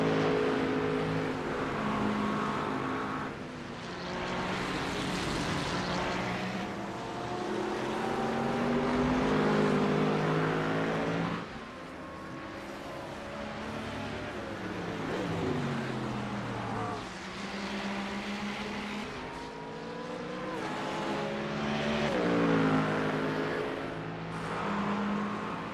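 Dodge race car engine in the iRacing sim: a loud, continuous engine roar that climbs and drops with repeated upshifts and downshifts, revving hard through corners with no pause.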